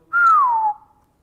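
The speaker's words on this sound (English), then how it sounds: "Give a little whistle." A person whistles one clear, sustained note that glides gently downward, close and loud, then ends abruptly with no talk.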